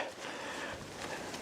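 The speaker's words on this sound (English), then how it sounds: "The wind is blowing around again pretty good" Wind gusts around a four season two person tent, a soft, continuous breathy rush with faint flapping, fairly quiet and steady throughout.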